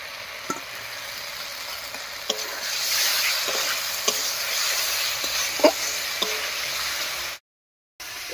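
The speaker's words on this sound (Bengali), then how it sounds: "আলুটা দিয়েও একটু কষিয়ে নিয়েছি" Fried potato pieces stirred into sizzling spice paste for a cauliflower and egg curry, a steady oily hiss with several distinct scrapes of the spoon against the pan, close and alone, ending in a brief silence.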